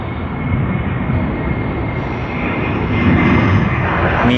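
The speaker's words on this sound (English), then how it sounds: "It will be a nice takeoff roll" An airliner's takeoff roll at Sydney Airport, a steady broadband engine roar that swells slightly louder toward the end, heard from a distance with no voices.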